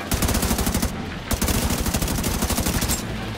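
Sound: deployed turret firing, from the video game The Division 2

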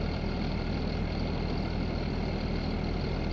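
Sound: White tractor engine idling in Farming Simulator 19 video game

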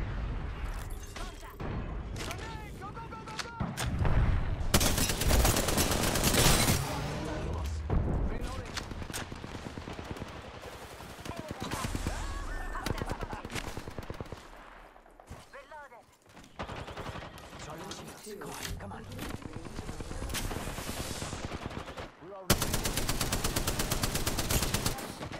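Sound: gunfire in the video game Apex Legends

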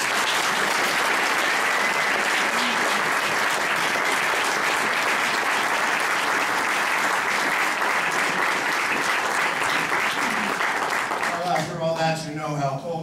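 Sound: audience applause welcoming speaker Michael Harris

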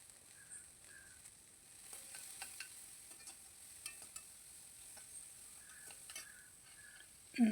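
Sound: onions sautéing in a pan

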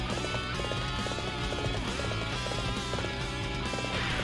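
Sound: horse galloping in Dynasty Warriors 7 video game

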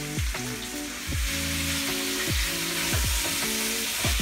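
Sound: chicken frying and sizzling in a pan

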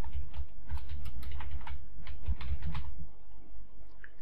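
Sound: typing on a computer keyboard

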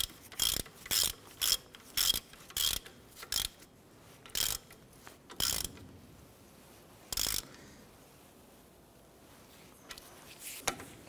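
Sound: ratchet tightening ball joint bolt on Ford Ranger

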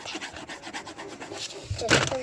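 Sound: coloring a drawing of Elsa's skirt

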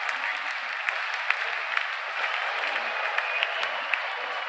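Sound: crowd cheering openers at cricket match

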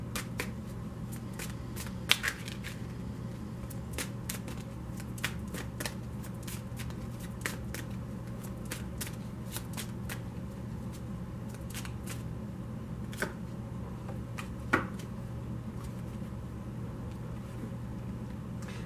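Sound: shuffling a tarot card deck

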